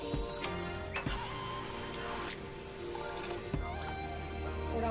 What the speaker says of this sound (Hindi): अब इसमें पानी डाल के मैं भिगो देती हूँ।